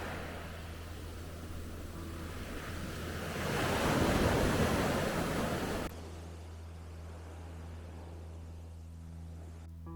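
Sea waves at Sizewell beach, Suffolk, heard close up with the recorder nearly in the water: a broad, rushing surf wash that swells to a louder break midway, then drops back to steady, noisy background surge.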